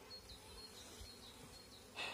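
Young honey bees buzz at an open hive frame in a steady, faint, continuous drone, with no voices over it.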